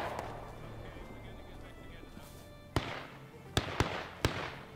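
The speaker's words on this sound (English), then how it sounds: "you can see the main line over there firing down upon us" Gunfire from a line of soldiers in the Civil War game War of Rights: four sharp musket cracks in the last two seconds after a stretch of low background noise, with faint talk early on.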